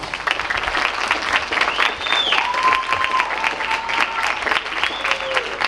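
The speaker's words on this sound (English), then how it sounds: "Give yourselves a round of applause." Graduates at a preparatory school graduation ceremony give sustained, crowded applause lasting several seconds, full and steady with sharp individual claps and a few high whistles or cheers rising above it.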